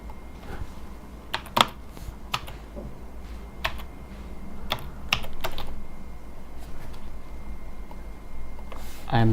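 Keys clatter on a computer keyboard while code is typed in MATLAB, irregular clicks in short bursts and single taps over a quiet room hum, close and moderately loud.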